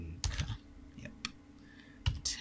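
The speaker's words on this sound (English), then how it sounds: "type in caps, I want to type South Africa." Quick bursts of keystrokes on a computer keyboard as text is typed in capitals while modelling in Blender, with a few separate clicks in between. The taps are close and crisp, with no talking.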